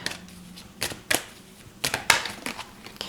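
A tarot deck is shuffled by hand in a quiet room, giving a series of close, sharp card riffles and slaps in irregular bursts.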